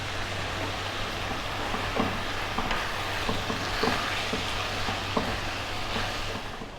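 Chicken and tomato pasta sauce with oregano and paprika sizzles steadily in a pan, a soft continuous crackle with occasional faint taps, with no talk over it.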